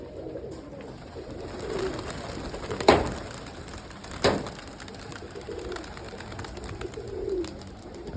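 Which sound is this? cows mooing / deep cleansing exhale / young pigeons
young pigeons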